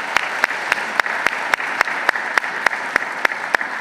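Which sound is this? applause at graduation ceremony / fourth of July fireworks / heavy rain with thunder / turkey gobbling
applause at graduation ceremony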